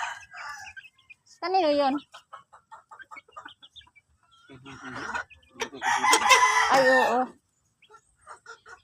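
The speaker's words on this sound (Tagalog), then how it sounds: "Dami niya ng manok." Chickens cluck and a rooster crows at a farm, several calls in short bursts of fowl noise under and between a few casual spoken remarks.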